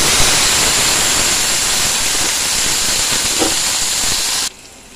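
Potatoes and beans hit a hot pan with a loud, steady, close hissing sizzle that runs evenly for several seconds and then drops off abruptly to a faint background.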